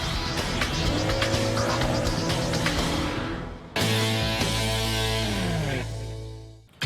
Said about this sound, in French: Nous allons pousser une voiture de course à sa vitesse maximale